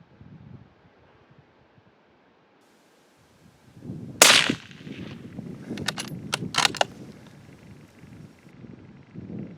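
A single loud, sharp rifle shot rings out outdoors during a waterbuck hunt in Africa, followed by a few sharp clicks and rustling, with wind noise and quiet talk around it.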